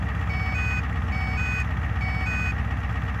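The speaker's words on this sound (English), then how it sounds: "you'll hear it beep while that pump builds up pressure for the first time" An oil burner's fuel pump pressure warning beeps in a steady repeating pattern of short electronic tones, three groups evenly spaced, over a constant low motor hum while pressure builds on first start.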